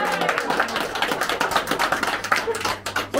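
A small group of people at a birthday gathering claps after singing Happy Birthday, a brisk run of close, uneven hand claps lasting a few seconds.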